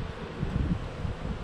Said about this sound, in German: Und in allen Fällen mal mehr als genug Bienen.